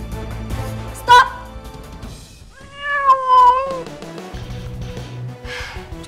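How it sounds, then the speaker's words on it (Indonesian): A cat meows twice, a short sharp cry and then a longer drawn-out wail, close and clear against low room background in an indoor home setting. "Cuma kucing."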